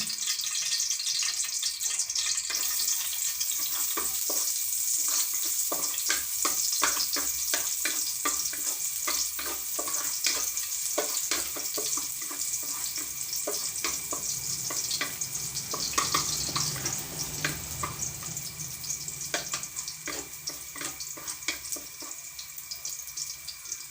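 Garlic fries in cooking oil with a steady close sizzle, crackles and spatter bursts, and the scrape of a spatula stirring now and then, with no talking.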